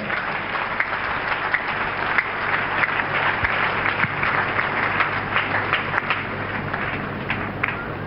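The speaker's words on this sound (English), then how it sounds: "Let's clap for wonderful Jesus." Dense, continuous clapping from a large congregation at a church deliverance service, steady and loud throughout with a crowd roar beneath and no spoken words.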